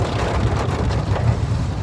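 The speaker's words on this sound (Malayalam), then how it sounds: "മുടിഞ്ഞ മഴ, ഭയങ്കര മഴ, ഭയങ്കര മഴ." Heavy rain pouring steadily, a dense, constant hiss with a low rumble underneath and no voices.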